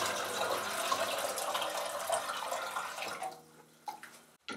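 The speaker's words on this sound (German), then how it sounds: "Und dann füllt ihr euch die Wanne mit Wasser auf." Tap water pouring into a tub that is being filled for a leak test on drinking-water pipes, a steady rushing splash that cuts off near the end, leaving a few faint drips and small knocks.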